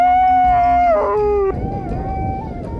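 A person imitates a Bigfoot (sasquatch) call outdoors with a long, loud wavering howl that slides downward and then drops to a lower sustained tone, close to the listener with no talk.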